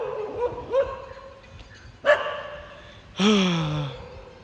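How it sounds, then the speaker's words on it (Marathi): A few loud dog barks and yelps from dogs chasing a vehicle in the early morning, spaced apart, close by against a quiet background with little else happening. "भीती वाटते असले कुत्रे भोका लागले भीती वाटते"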